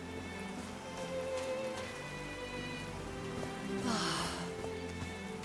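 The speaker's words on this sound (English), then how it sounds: "These drops of rain are so refreshing." Rain falls steadily in the video game Call of the Sea, a continuous soft patter at even loudness over a low ambient musical drone, with a brief swell of brighter hiss near the end.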